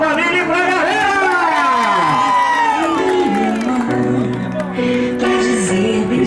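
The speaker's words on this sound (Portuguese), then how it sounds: "palmas pra família e pra galera!" A family celebration crowd cheers, whoops and shouts for several seconds, with children's voices, singing-like wavering voices and some clapping mixed in, loud and continuous throughout.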